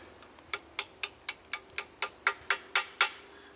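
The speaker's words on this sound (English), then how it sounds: "there's so much rust I actually have to pound the hammer onto it" Roughly a dozen sharp metallic hammer blows land in a quick, even rhythm on a rusted ball joint during steering rack work on a 2012 Subaru Outback 2.5L. Each strike rings briefly, moderately close, with no talking.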